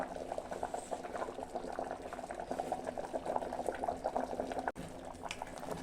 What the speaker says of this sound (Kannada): ನೋಡಿ ನಾನು ಅದಕ್ಕೆ ಪಾತ್ರೆಯಲ್ಲಿ ಇಟ್ಟಿದ್ದೀನಿ, ಕುದೀತಾ ಇದೆ